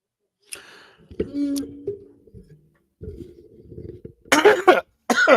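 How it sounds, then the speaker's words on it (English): Several harsh coughs come in short bursts close to the mic, with brief pauses between them, followed by someone talking. "As I'm coughing."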